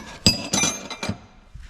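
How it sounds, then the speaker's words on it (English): A hammer striking a chisel to tap parts loose from an aluminum Brembo brake caliper on a Z31 300ZX big brake kit, with four or five sharp metallic clinks spaced across a short moment, close and clear, with no talk. "going to get my hammer and a chisel"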